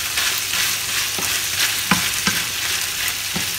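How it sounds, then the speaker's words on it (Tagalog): Garlic, onion and meat being sautéed for Filipino dinuguan give a constant close sizzle, punctuated by a few distinct knocks and scrapes of stirring against the pan, with nobody talking. "Haluin po natin mabuti para lumasa po yung bawang at sibuyas sa karne."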